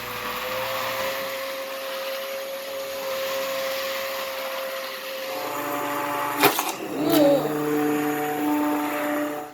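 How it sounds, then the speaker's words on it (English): An immersion blender purees pumpkin fennel chowder in a pot, a steady motor whine that holds for several seconds before sharp clunks and a louder surge near the end. "All right, so I'm going to use this immersion blender, and we're just going to get this pureed."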